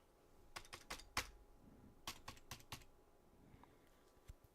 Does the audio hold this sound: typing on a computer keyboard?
yes